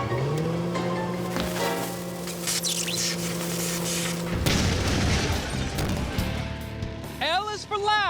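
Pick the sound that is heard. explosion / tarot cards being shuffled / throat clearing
explosion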